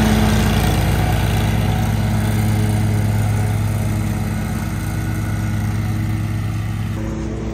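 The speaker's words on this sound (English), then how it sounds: "it is nice sometimes having a second mower with you" A lawn mower runs loud and close in a steady drone, its engine note holding constant before easing slightly near the end, with no voices over it.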